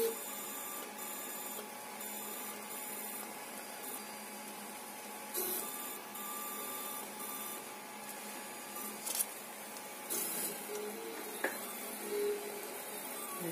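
A Makeblock MegaPi XY plotter draws lettering on paper, giving off quiet stepper-motor whirring with short, irregular bursts of movement, faint and close, with no one speaking.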